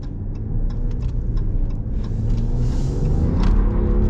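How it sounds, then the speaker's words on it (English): A truck engine rumbles and revs up loudly while tires spin, with a deep low roar building toward the end and light ticking above it. "Spinning the tires a little bit."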